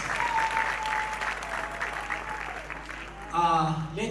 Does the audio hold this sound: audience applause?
yes